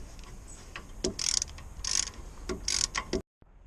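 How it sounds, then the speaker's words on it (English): A ratchet works the nut on a Volvo XC90 track rod, giving several bursts of close, bright clicking in an uneven rhythm that ends abruptly in silence. "Undo the nut on the track rod."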